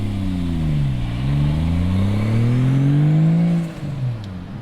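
A Toyota Altezza with a swapped 2JZ engine revs loudly nearby, its pitch dipping and climbing in a smooth, sustained drone before the throttle drops off near the end.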